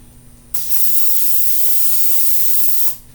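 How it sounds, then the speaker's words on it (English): A steady spray of cooking oil onto a pan hisses continuously for about two and a half seconds, loud and close, with a sharp start and stop. "I'm going to spray my pan"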